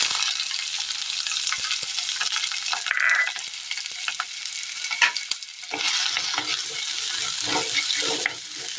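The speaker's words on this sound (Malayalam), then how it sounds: "ഇനി നമുക്ക് ഈ ചട്ടിയിലേക്ക് സബോള ഇട്ട് കൊടുക്കാം." Onions fry in a pan with a continuous close sizzle, broken by repeated scraping stirs and a few sharper knocks against the pan, no voices.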